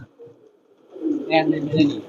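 Pakistani Peepal-wala pigeons coo close by, a low throaty burble building in the second half after a quieter start, with someone speaking at the same time.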